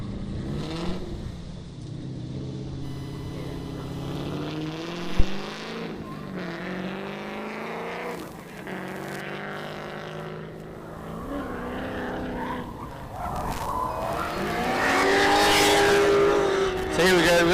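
Drift cars at a drift battle, engines revving high and tyres squealing in long sustained howls as they slide through laps. The whine rises and falls and grows louder and harsher toward the end.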